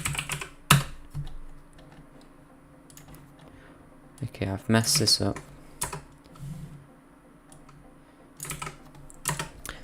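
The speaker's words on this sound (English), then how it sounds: "So I was typing these stars and things between the messages." Typing on a computer keyboard comes in scattered bursts of close, crisp key clicks, with brief pauses between them, while someone talks quietly in between.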